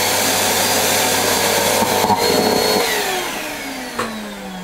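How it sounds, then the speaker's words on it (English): A failing Nilfisk Power vacuum cleaner motor runs loud and close with a steady whine, then sputters and drops in pitch as it winds down, with a sharp pop near the end. "Just give you a quick listen to what it sounds like when the motor's failing."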